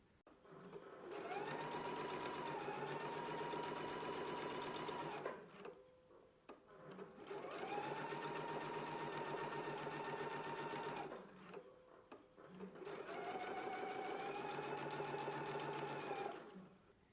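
A sewing machine stitches apron fabric along a basting line, running in three sustained bursts of steady motor whir and needle chatter separated by short pauses, close and clear without talk.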